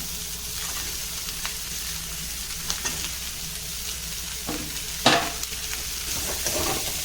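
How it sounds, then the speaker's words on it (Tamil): Green chilli, garlic, ginger and onion sautéing in a pan for a curd masala ladies finger gravy, a steady soft sizzle with a few louder stirring scrapes and clinks, close and alone. "இதெல்லாம் இதில் சேர்த்து நல்லா வதக்கிக்கலாம்"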